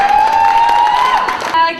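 Audience at a poetry slam competition applauding and cheering a poet after the scores are read, a steady dense wash of clapping with crowd noise and a voice over it.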